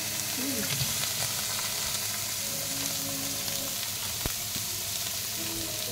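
Eggplant fries in hot oil in a pan for a Bengali fish-and-eggplant dish, giving a dense, continuous close sizzle with an occasional stir or clink and no speech.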